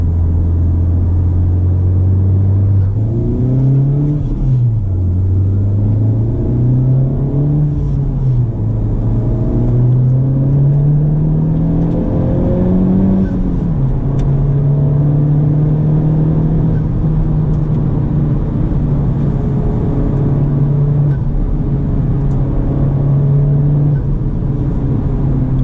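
Inside a 2019 Honda Civic Type R, the turbocharged four-cylinder engine drones loudly as it accelerates, its pitch rising through the gears with brief dips at shifts before settling into a steady high hum.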